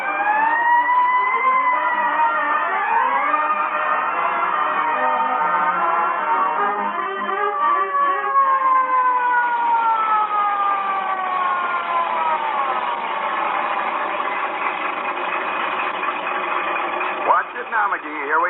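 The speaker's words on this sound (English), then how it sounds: "when I rolled past the Elks Club with a siren going 70" A fire truck siren wails continuously, rising and falling in long sweeping tones, loud and close throughout, with engine noise beneath.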